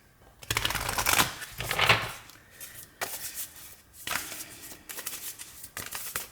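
Tarot cards shuffled by hand for a reading, with riffling bursts that grow denser near the start and then come back as shorter, softer rounds of shuffling at close range.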